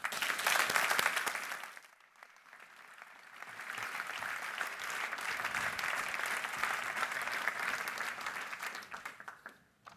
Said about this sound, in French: je vous demande d'applaudir pour leur discours Madame le bâtonnier Caroline Lavessière et Monsieur le vice-bâtonnier Jérôme Delas